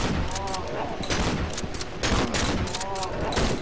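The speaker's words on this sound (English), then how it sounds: "Everybody shoot their shotguns, I have to reload." Shotguns fire steadily in the Cry of Fear video game, a dense run of blasts and booming reports. It is loud and continuous, with no talking.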